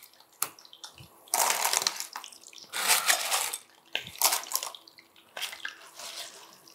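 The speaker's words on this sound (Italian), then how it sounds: "adesso le buttiamo nella padella dove l'aglio si è imbiondito" Live clams tossed into a frying pan of golden garlic for Neapolitan spaghetti alle vongole, giving loud bursts of sizzling and rattling shells in several surges, with quieter gaps between them.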